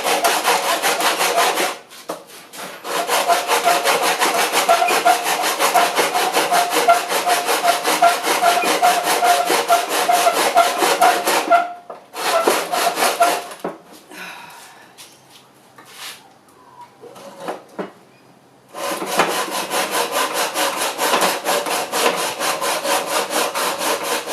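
A hacksaw cuts in a mitre box with long, steady rasping strokes close up, running continuously, briefly pausing, then resuming with a few quieter knocks in between.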